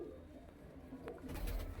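A Lal Cheena pigeon gives faint, low, soft coos against a quiet background hum.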